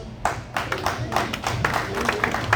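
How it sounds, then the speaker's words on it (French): Applause from an audience at a political party general assembly in New York, made up of distinct, fairly sparse claps rather than a full roar, with a low murmur of voices underneath. "Je voudrais que vous applaudissiez ici"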